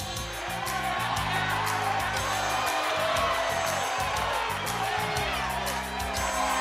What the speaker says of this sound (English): Just listen to the crowd. Crowd says 6.